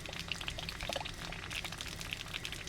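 Faint, steady trickling and splashing of water flowing from a camper's hot water valve as air is bled from the tank, with small gurgles and drips, quiet and close.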